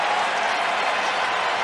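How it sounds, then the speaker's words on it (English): Football stadium crowd at the 1989 Grey Cup reacting to a touchdown, a dense roar of cheering and clapping that stays loud and steady throughout with no break. "you heard the crowd react as the official raised his arms"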